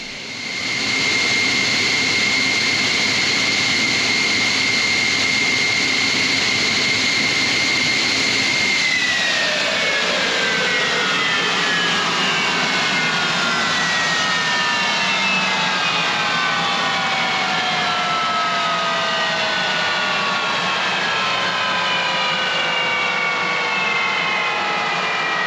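A J79 jet engine roars steadily with a high whine, then winds down after about nine seconds, its falling tones sliding lower as it spools toward idle.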